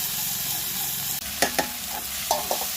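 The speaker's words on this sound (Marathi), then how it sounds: "आपण जे मसाले घेतलेले आहे ते पण तेलामध्ये टाकूया आणि छान परतून घेऊ" Onion masala, homemade masala, garam masala, turmeric and salt sautéing in oil over a wood-fired clay stove: a steady, close sizzle broken by a few sharp clinks and scrapes of a stirring spoon against the pan.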